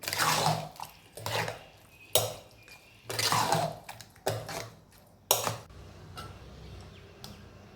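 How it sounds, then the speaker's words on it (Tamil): Curd rice being mixed with salt by hand or spoon in a metal vessel, giving repeated clinking and scraping bursts in an uneven rhythm, close and fairly loud with no talking. "தேவையான அளவு உப்பும் போட்டு அதை நல்லா கலந்து விடலாம்"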